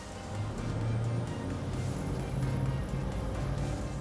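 Cranchi 60 ST motor yacht accelerating on the water, with a loud, steady engine drone and rushing wash building close by under a slight rising tone.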